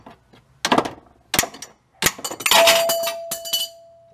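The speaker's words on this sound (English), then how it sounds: "now we're going to hit that with a hammer and once we hit this, it should break loose fairly easy" Several sharp metallic hammer blows ring out against the clutch fan nut on a 2017 Ram 1500 with the 5.7L Hemi, each strike clanging with a bright ring, the last followed by a sustained metallic tone.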